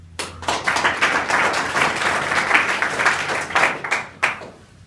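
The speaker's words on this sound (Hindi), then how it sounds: "जितने लोगों ने हाथ उठाया सब पे ताली बजाओ" Students at a school assembly clap together in a sustained burst of applause, dense and fairly close, with a brief swell near the end before it fades.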